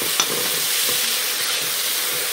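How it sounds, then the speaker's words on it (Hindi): Jackfruit curry with tomatoes fries in a pan on a low-to-medium flame, giving a steady, loud sizzle with occasional stirring scrapes throughout, and no voices. "अच्छे से इसे फ्राई करना है मीडियम फ्लेम पे, लो टू मीडियम फ्लेम पे।"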